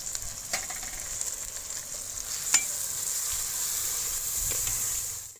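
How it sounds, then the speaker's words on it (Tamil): Tomatoes sauté with rock salt in a pan for chicken 65 biryani, giving a steady soft sizzle with occasional stirring clicks, close and fairly quiet, with no talking. "தக்காளி வதங்கிறதுக்கு கல் உப்பு சேர்த்துக்கலாம்."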